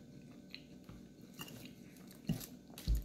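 Close chewing of crunchy fried breakfast potatoes, soft repeated bites and mastication with a couple of sharper crunches toward the end, quiet and without talk.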